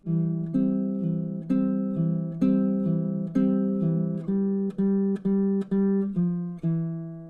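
A baritone ukulele is plucked fingerstyle in a steady two-chord pattern, each clear note and chord ringing out in even succession, close and alone.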